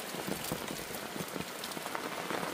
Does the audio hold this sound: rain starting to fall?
yes